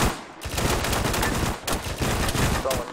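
Gunfire in a military video game firefight, loud sustained bursts of automatic weapons fire in rapid overlapping volleys, briefly pausing twice before resuming, close and continuous.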